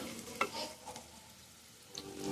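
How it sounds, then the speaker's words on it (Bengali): Onions, already fried reddish, are stirred in a pan and then covered with a lid, giving a faint, soft sizzle. A few brief stirring scrapes and clatters are close by, and no one speaks. "পেঁয়াজগুলো একটু নাড়িয়ে চাড়িয়ে আমি ঢাকা দিয়ে দিলাম একটু ভাজা ভাজা হবে"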